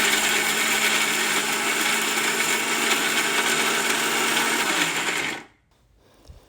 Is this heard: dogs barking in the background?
no